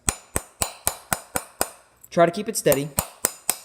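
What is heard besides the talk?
hammer striking nail on coin to make ring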